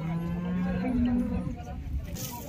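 A bull at the Patoda bull market in Dharashiv lets out one long, deep, close moo lasting over a second, then trails off into background market noise.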